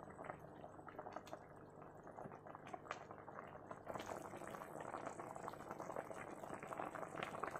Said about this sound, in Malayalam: നമ്മുടെ മീൻകറി നന്നായിട്ട് തിളച്ച് വെന്തിട്ടുണ്ട്.